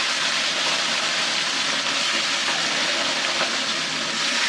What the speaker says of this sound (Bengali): এই যে এখন আমি এই কই মাছগুলো রান্না করবো, সরি ভাজবো।